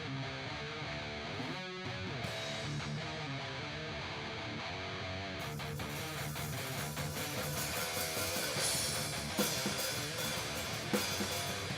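A new song plays back during a livestream, a dense, distorted mix of instruments with drums thumping underneath, steady and moderately loud and growing busier partway through, with no talk.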